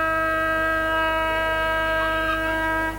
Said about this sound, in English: as the siren's gone to finish the first quarter